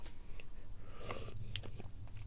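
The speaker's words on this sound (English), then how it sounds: "with the crickets and all the other things chirping around me" Crickets chirp steadily close by outdoors in a sheltered spot, a continuous high trill running through the whole stretch with no talking.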